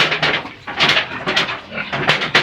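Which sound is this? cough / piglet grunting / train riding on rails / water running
piglet grunting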